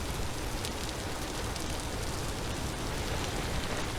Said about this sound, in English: I feel like the rain is not well balanced with the rest of the sounds in the game.